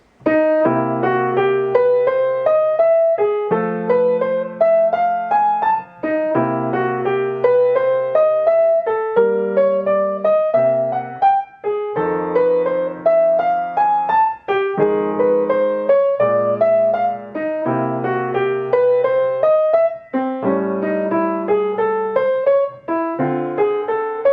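Solo jazz piano plays a bluesy improvisation, with steady bass-register chords under repeated rising broken-chord figures, continuous and clear.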